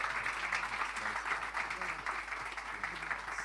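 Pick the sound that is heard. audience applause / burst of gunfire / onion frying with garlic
audience applause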